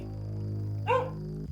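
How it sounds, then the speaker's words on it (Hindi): A single short bark from a dog, fairly faint, over a steady low electronic hum. "दूर कहीं कुत्तों की भौंकने की आवाज उस डरावनी शांति को तोड़ रही थी"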